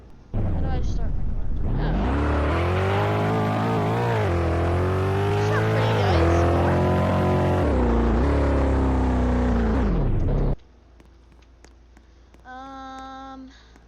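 A car engine in a car repair video game starts up and drives, a loud sustained engine drone rising and falling in pitch for about nine seconds before cutting off, followed by a quieter electronic tone.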